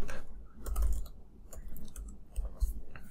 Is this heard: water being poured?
no